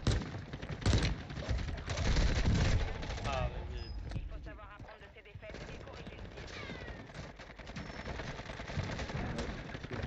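Bursts of gunfire ring out during a Call of Duty Warzone match on the Caldera map, with loud rattling shots early that fade to quieter distant firing, while players talk over voice chat.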